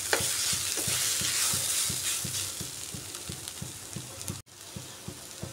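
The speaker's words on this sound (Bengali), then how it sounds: "আরও কিছুক্ষণ ভালো করে ভেজে নিচ্ছি।" Chicken fries in a pan for a dry chicken dish, a constant close sizzle under rhythmic scraping stirs roughly every third of a second, briefly breaking off near the end, with no voices.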